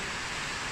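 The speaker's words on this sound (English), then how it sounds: "you'll have to apologise for the rain" Steady rain hisses nearby, a dense even wash of drops with no pauses or other sounds.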